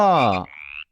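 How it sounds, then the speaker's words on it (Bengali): A frog gives one brief, loud croak up close, followed by a short fading hiss before silence, as heard in a children's Bengali alphabet rhyme. "ব্যাং"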